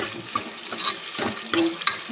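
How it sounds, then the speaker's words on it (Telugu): Spices for a tomato dal tempering crackle and sizzle in hot oil over a high flame, broken by a few sharp scraping stirs of a spoon against the pan. "స్టవ్ హై ఫ్లేమ్లో పెట్టుకొని తాలింపు అనేది బాగా వేగేంత వరకు కూడా"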